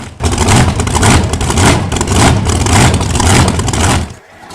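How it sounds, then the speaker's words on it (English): A heavy Big Bud 747 farm tractor engine runs loud and close, its deep rumble swelling and easing in slow surges before dropping off abruptly at the end. "Hear the sound of an engine."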